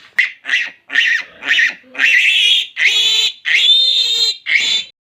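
A pig on a farm where the sow has just given birth lets out a close, loud run of about eight harmonic squealing grunts, the later ones drawn out longer.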